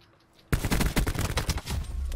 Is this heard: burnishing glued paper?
no